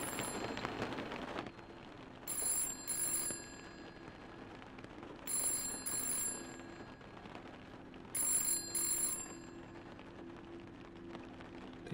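Telephone ringing inside the horror video game Chasing Static: three bursts of bright electronic ringing at regular intervals, each about a second long, over a steady low rain-like ambience with no talk.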